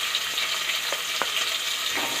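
Chopped onions and spring onions fry in a pan with a steady high sizzle, broken by a few sharp crackles and pops as the oil spits.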